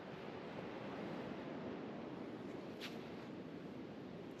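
Surf at Sealodge Beach on Kauai's Kaweonui trail: a steady, broad roar of breaking waves with wind buffeting the microphone, continuous and even with no voices.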